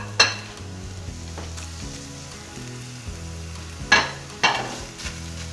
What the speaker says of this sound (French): En ajoutant la viande, j'ai augmenté la chaleur du feu pour bien saisir la viande